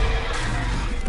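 A Confringo blasting spell in Hogwarts Legacy on PS4 erupts as a loud, dense crash, a brief sustained burst of broadband noise filling the moment alone.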